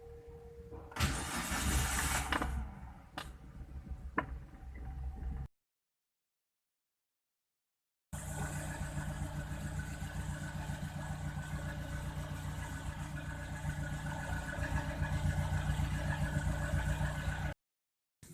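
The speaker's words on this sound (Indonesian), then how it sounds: "kita panasin dulu mobilnya dan tunggu 10 sampai 15 menit" Suzuki Karimun hatchback engine idling to warm up, a steady close mid-low hum that runs unchanged, broken by a short silent gap, with some brief handling clatter near the start.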